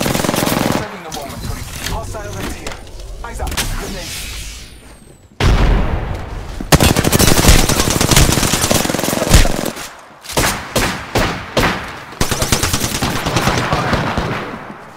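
Gunfire in the Apex Legends video game, loud rapid automatic bursts and booming shots, with sudden cuts, a run of evenly spaced single shots near the end, and game voice lines.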